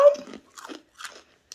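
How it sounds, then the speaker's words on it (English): Close, crisp crunching from someone biting and chewing a crunchy snack, in three or four short bursts separated by brief pauses. "I'm assuming that they're going to be crunchy."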